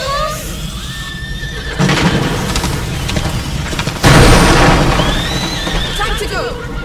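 A horse whinnies loudly in the medieval video game A Plague Tale: Innocence, shrill neighs rising amid heavy booming impacts and crowd chaos, with shouting voices throughout.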